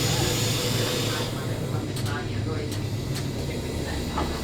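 Steady low rumble and hiss of a passenger train riding the rails between České Budějovice and Český Krumlov, constant and close throughout with a few faint high clicks, under light speech.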